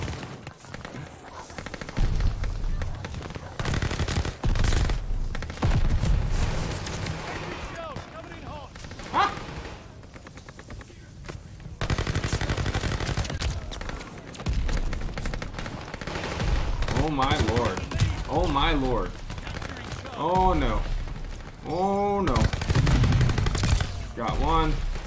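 Gunfire from Call of Duty Vanguard on the Shipment map, with repeated loud bursts of automatic weapons rattling in and out while a player talks over much of it.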